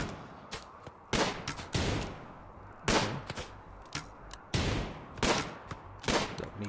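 Bursts of gunfire from a RimWorld colony battle crackle in quick volleys, several overlapping loud salvos separated by short pauses over a low ambient background.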